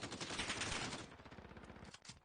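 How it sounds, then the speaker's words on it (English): MP5 submachine gun fire in a competitive video game match: rapid bursts of automatic shots, fairly faint, with the rhythm loosening toward the end. "Kieran secures a double outside with the MP5."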